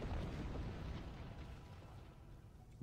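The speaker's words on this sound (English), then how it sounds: "That's a big explosion for a little ship." A small ship blowing up in the space game Star Trek Online, a low rumbling explosion that starts loud and slowly decays over a few seconds with no voices.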